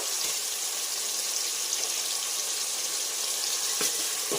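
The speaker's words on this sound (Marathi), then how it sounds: "टोमॅटो घालून झाल्यावर थोडंसं फ्राय करून घ्यायचं आहे आपल्याला" Tomatoes frying in a pan for masala rice, a dense continuous hissing sizzle, steady and close throughout with no speech.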